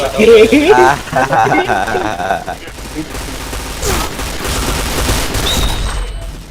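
Rapid gunfire bursts from the shooter game Point Blank, loud bursts and clatter beneath excited talking, with the firing becoming denser toward the end.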